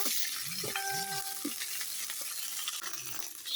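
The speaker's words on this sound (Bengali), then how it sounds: "এখন দিয়ে দিলাম আদা রসুন বাটা" Ginger-garlic paste and onions fry in a hot pan with a continuous sizzle. Early on there are a few soft utensil scrapes and a short tonal ring, and no talking.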